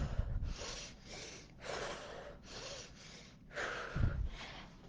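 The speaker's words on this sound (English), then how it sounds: "So this is how we inhale." A person takes slow, deep breaths in a mindfulness breathing exercise, drawing air into the diaphragm. Several airy, breathy draws and releases come close up and unvoiced, separated by short pauses, with a heavier, rougher breath near the end.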